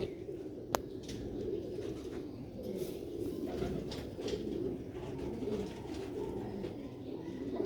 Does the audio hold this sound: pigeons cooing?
yes